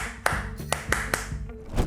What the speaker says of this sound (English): To hear these clicks and codas, they're like little claps.